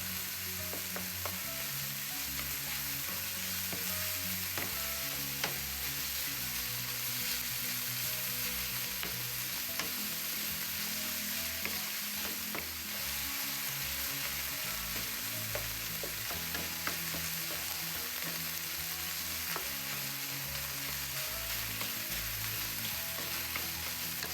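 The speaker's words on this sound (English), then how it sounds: "I will stir fry the ingredients with the ground pork until it's fully mixed and combined." Ground pork and water spinach are stir-fried in a pan, with a continuous, fairly quiet sizzle and frequent light scrapes and taps from stirring that run throughout with no voices.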